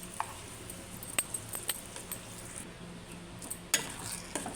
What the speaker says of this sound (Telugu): పచ్చడి మొత్తం తాలింపు వేసుకొని ఒకసారి మొత్తం ఇలా కలుపుకోవాలి